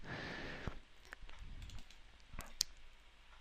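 A computer mouse clicking during a Fluke PowerLog software demo, several faint, sharp clicks scattered over a soft background hiss.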